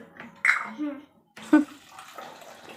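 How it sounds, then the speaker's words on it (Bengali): Water running into household containers, a splashing, rushing stream heard close under brief voices and a cough, with a short pause before the flow resumes. "জল ভরতে বসলি?"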